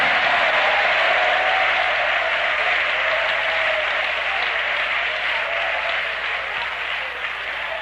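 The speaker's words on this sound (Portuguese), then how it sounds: "Desocupem as mãos, batem palmas e glorifiquem ao Senhor" A church congregation claps steadily throughout a worship service, a dense, continuous wash of many hands that holds loud from start to finish with no break.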